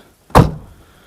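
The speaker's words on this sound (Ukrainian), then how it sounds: "Тут оце так закривається" One solid thunk of a 1996 Fiat Ducato van door shutting close by, with a short dull resonance fading afterward.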